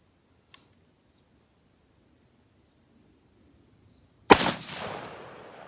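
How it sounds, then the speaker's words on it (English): A single sharp 6.5 Creedmoor rifle shot cracks out loudly after several seconds of near silence, followed by a short decaying echo. "This gun is very loud."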